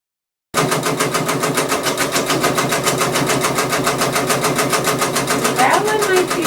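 A Janome MB4 embroidery machine stitches a monogram number with a fast, even needle chatter. The close, loud mechanical pulse runs steadily after a sudden start, and nobody speaks over it.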